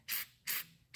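Three short hissing bursts of rust remover sprayed onto a rusty Smith & Wesson .38 Special revolver, each about a fifth of a second with brief quiet gaps, close and fairly loud.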